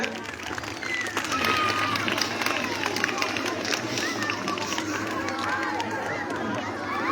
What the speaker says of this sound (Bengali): সবাই হাততালি দিয়ে